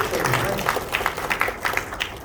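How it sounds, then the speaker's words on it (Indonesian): Applause from the audience at a motivational work-spirit training session, irregular clapping with distinct hand strikes poking through, mixed with crowd murmur and voices nearby. "Tepuk tangan dulu kan"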